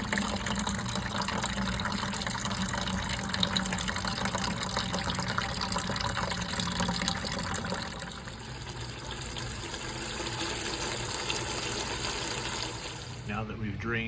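Water gushes steadily from the drain of a household hot water tank carrying sediment, a continuous loud rushing that dips briefly partway through, with a voice speaking over it.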